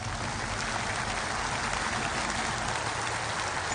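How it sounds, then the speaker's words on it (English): Steady, dense audience applause welcoming guests on stage at an automotive event, a continuous even wash of clapping from start to finish with no talk. "Round of applause, here they come."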